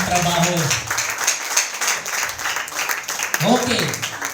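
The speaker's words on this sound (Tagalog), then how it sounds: "Palakpakan natin ang Panginoon." A church congregation at an anniversary service claps together, a dense, continuous patter of many hands close by, while a voice speaks over the start and end.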